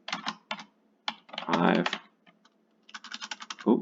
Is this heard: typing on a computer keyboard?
yes